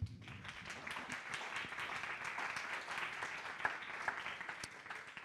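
Audience applause at a public debate on taxation and public spending, a steady patter of many hands clapping at moderate distance, with a few sharper individual claps standing out.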